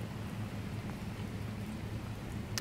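Steady rainfall hisses evenly with a low rumbling undertone, continuous and moderately quiet, with no voices over it.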